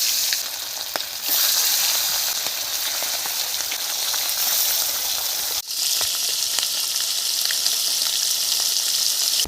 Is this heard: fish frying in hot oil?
yes